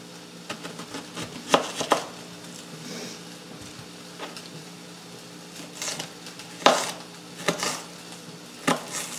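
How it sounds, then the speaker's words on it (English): A knife chops an onion on a cutting board in scattered, uneven knocks, some sharper than others, close by with a faint background hum and no talking. "So now I'm going to be cutting up the onion."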